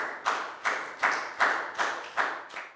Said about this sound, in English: a big round of applause for everybody doing a great job